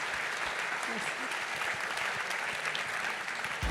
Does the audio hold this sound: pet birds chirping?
no